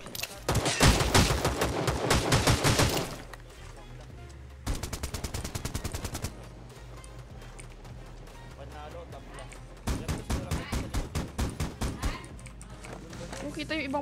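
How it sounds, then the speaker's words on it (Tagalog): Bursts of rapid automatic gunfire from other players in the ROS battle royale game, heavy volleys at the start, a shorter burst midway and another run of shots near the end, with game ambience and a voice in between. "Kita yung ibang bumabaril."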